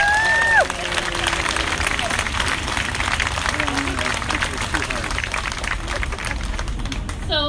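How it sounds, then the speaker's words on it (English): A large crowd applauds and cheers steadily at an outdoor summer-night Lights for Liberty rally outside the Whipple Federal Building in St Paul, a dense wash of clapping that holds from start to finish, with a brief voice at the opening. "Please give yourself a round of applause."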